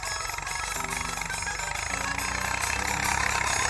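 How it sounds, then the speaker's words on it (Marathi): A tractor ploughing a groundnut field, its engine drumming in a steady low, throbbing idle-like drone that stays fairly even and grows a little louder toward the end. "तर बा ट्रॅक्टर चालू आहे वावरात बघू शकता तुम्ही."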